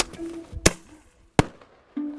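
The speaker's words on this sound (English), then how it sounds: "It's just like a firecracker, a big firecracker." Two sharp, loud firecracker-like bangs set off to scare away wolves, spaced about a second apart, each with a quick echoing tail, outdoors with a faint hum between them.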